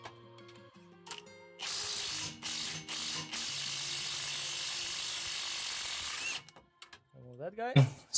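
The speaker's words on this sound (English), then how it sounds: "We're using a 22 mil socket and a swivel." A hand ratchet fitted with a 22 mm socket and swivel works a nut loose on a Nissan Xterra/Frontier during clutch removal, with close rapid clicking bursts, a long sustained stretch of ratcheting, then brief pauses and a few final clicks, and someone speaks briefly.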